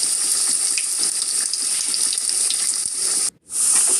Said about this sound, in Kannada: ಕೆಂದು ಬಣ್ಣ ಬರೋವರೆಗೂ ಎಣ್ಣೆಯಲ್ಲಿ ಬಿಡಿ.